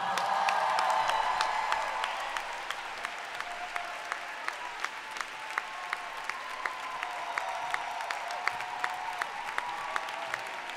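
A large concert audience at the Mediolanum Forum in Assago applauds steadily, a dense wash of clapping with a few sharper individual claps standing out, continuing without pause.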